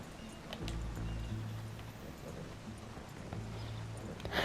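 Horse hooves clip-clop in a quick, steady galloping rhythm in the video game Red Dead Redemption 2, fairly faint and muffled, with a low rumble behind them and no voices.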